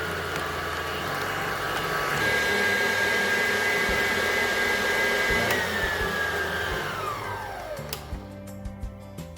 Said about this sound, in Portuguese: depois eu aumento a velocidade da batedeira